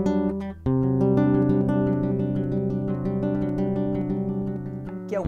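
Corrado C6 nylon-string acoustic guitar heard through its pickup, with sustained strummed chords and plucked notes ringing steadily and fairly loud, close and alone with no talking.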